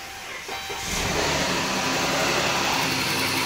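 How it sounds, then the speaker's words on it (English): A 3.6 V6 Pentastar car engine starting, a brief crank that catches after about a second and settles into a loud, steady, hissy idle close by, with no talk. "Let's fire it up and see what the world's gonna happen."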